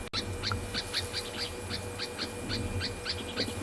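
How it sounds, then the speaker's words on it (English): Owls calling in the bush at sunset, a rapid series of repeated short hoots in steady rhythm, moderately distant over a low ambient hum. "And you can also hear the owls."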